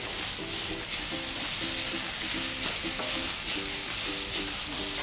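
Onion and capsicum roasting in a pan sizzle steadily up close, with repeated rhythmic scraping and stirring strokes of a utensil and no voices.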